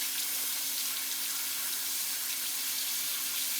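Tap water running steadily into a sink while something sandy and organic is rinsed, a continuous hiss and splash close by with a faint hum underneath, no talk.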